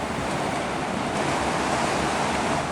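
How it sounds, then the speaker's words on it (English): Waves wash steadily onto a white sand beach on Koh Samet, Thailand, a loud continuous surf roar mixed with wind buffeting the microphone, and no voices. "Lots of beautiful white sand beaches like this all along this side of Koh Samet."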